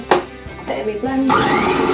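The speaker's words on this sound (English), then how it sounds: "then go into my blender with the onions" A kitchen blender chops onions and courgettes. Its loud, steady whirring kicks in partway through and runs to the end, after a brief stretch of speech and clattering.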